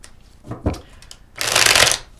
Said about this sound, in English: Let's give it a good shuffle and see what we have to play with.